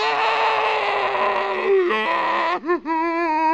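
A burning headcrab zombie from the video game Half-Life groans in a drawn-out, wavering, voice-like moan that bends in pitch and breaks near the end, loud and alone.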